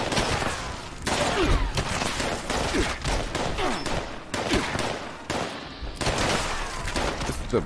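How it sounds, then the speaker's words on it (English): Pistol fire in the post-apocalyptic game Fallout 76: loud, close shots in quick rhythmic strings, broken by a few short pauses across the whole stretch. "This is a pretty good pistol here."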